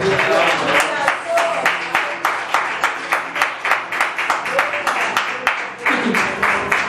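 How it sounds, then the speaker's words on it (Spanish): A church congregation claps in a fast, rhythmic unison beat, loud and close, with voices underneath. "Aplaudirle al Señor."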